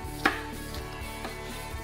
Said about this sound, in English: We're just roughly chopping these,